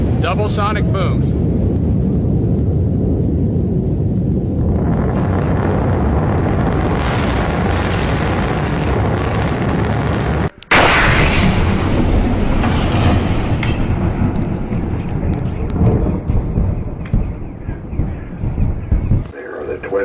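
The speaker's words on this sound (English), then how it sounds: "There are the twin sonic booms." Twin sonic booms from two rocket boosters coming in to land: a sudden sharp crack stands out against a steady loud roar of engine and crowd noise, which then thins and fades.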